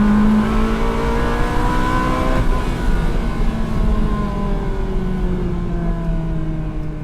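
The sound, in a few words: Ferrari 360 Spider engine revving with manual gearbox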